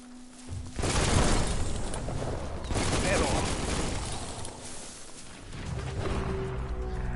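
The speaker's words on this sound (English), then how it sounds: "let's shoot the barrels" Rapid gunfire bursts in the video game Biomutant as barrels are shot, loud and dense across most of the clip with a few breaks, mixed with game sounds and music.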